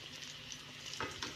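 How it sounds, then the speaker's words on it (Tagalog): Onions frying in a pan until they brown, giving a steady, close sizzle with soft stirring scrapes throughout and no voices. "Yan yung sibuyas natin guys. Malapit ng ma-brown. Ayan. Haluin natin"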